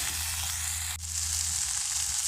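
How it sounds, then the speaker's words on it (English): Githeri being stirred into a sizzling mixture in a pan, a steady bright hiss of frying with a low hum underneath and a brief scrape partway through. "I'm adding my Githeri there to the mixture. So I'm going to mix so well."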